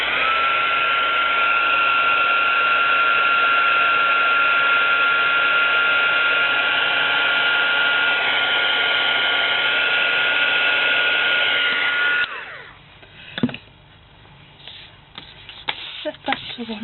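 A hair dryer blows steadily and loudly on freshly stamped red craft card for about twelve seconds, then cuts off, leaving quiet handling sounds and light clatter.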